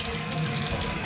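Water pours steadily from a Grohe waterfall-style faucet, a continuous broadband rush with no break, close and fairly loud, nobody speaking.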